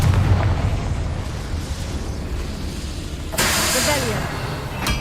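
Confringo fire spell bursting in Hogwarts Legacy, a sudden loud broadband blast near the end over continuous game ambience and rumble.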